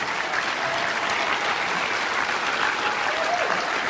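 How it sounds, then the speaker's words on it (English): Steady applause from an audience at a media conference evening event, a dense even patter of many hands clapping throughout, fairly close and continuous with no talk over it. "give them a round of applause because they're not here"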